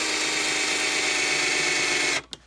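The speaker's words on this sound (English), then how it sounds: "Normal hand drill. Put that right in the spot." A hand-held electric drill bores into sheet metal with a loud, steady high whine lasting about two seconds, then stops abruptly, followed by a brief faint tick.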